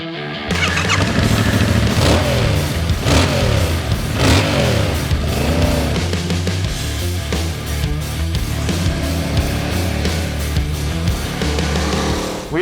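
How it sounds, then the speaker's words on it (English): A 2022 Yamaha YZF-R7 sport motorcycle accelerates on a winding road, its engine rising in pitch through repeated gear changes, loud and steady throughout without speech. "But it's almost a crime to stand next to this bike on a winding road. So let's gear up and see what it can do."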